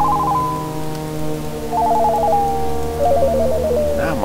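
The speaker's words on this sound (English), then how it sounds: "My phone is ringing." A mobile phone ringtone plays loudly and close, three warbling trilled bursts repeating at a steady pace over low background noise.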